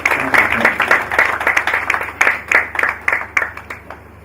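Audience applause at a stock exchange hackathon event in Nigeria, a few seconds of moderate, uneven clapping from a small crowd, individual claps distinct over a low room hum, thinning toward the end.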